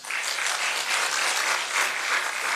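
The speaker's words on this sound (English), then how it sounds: "Secretariat deserves a clap from us." Audience applause fills a symposium hall at the close of a session, a steady dense patter of many hands clapping at moderate volume with no voices over it.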